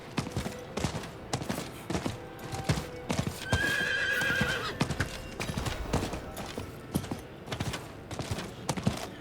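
Horse hooves clip-clop steadily in Diablo 4, a loud, regular rhythmic beat of sharp strikes with a whinny partway through and game sounds layered over it.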